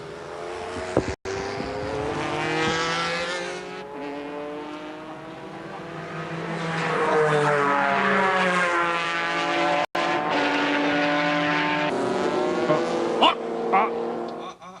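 Race cars at the 1994 Suzuka 1000km endurance race, with the Mazda RX7 leading a Porsche and an NSX. Loud engines roar past in rising and falling sweeps, one after another, throughout.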